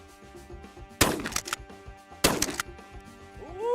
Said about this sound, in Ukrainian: Це виглядало як кілька хороших пострілів.